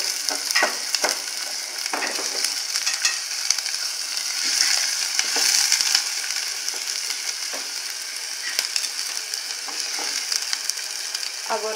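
Onion fries in a pan with garlic for a carrot farofa. A continuous bright sizzle runs throughout, broken by scattered clicks and scrapes from stirring, close and fairly loud, with no talking.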